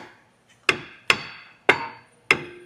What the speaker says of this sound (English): give your rotor a couple love taps